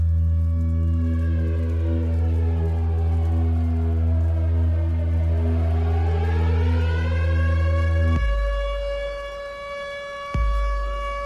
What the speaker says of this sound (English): The shrill cry of a siren cut the conversation short, the hauling squeal of it echoing all across the town and bouncing off of the walls.